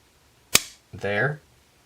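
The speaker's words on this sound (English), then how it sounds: "Now if I pull the trigger, you can see after the sear breaks" The trigger of a CZ 527 rifle is pulled and the sear breaks with one sharp, close click in a quiet room, followed by someone speaking.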